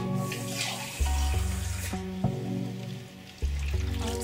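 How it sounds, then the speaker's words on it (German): Water is poured into a pot of white-cabbage stew already holding broth, making a close, splashing, gurgling stream that swells and shifts in several pulses over a few seconds. "Jetzt noch ein bisschen Wasser."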